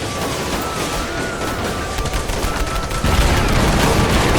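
Weapon fire in the video game Fallout 76, a steady stream of rapid shots with a heavier, louder burst near the end, no talking over it.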